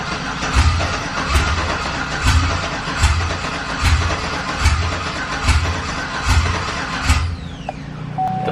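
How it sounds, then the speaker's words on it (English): A car engine running on open long-tube headers idles roughly with loud, evenly spaced low thumps, a lumpy, open-exhaust rumble that steadies before a short high beep near the end. "we're gonna start this thing on open headers."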